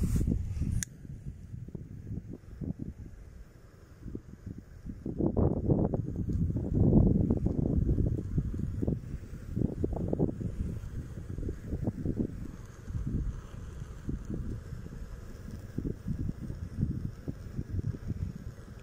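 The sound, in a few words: wind blowing outdoors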